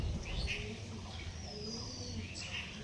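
Pigeons in a loft give faint, soft coos and chirps, partly overlapped by someone talking nearby.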